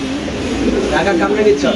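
A Spanish pigeon coos in a low, rolling murmur close by, heard under someone talking.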